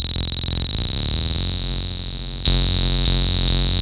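Korg digital drum synth with its modulation knob turned up, producing a sustained buzzy, distorted tone with a steady high whine; midway it jumps louder and thicker, with a couple of faint pulses after.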